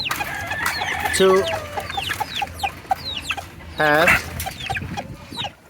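Several hens cluck and squawk close by in a backyard flock during the molt, with short repeated calls and two louder drawn-out cackles, while a person speaks briefly over them.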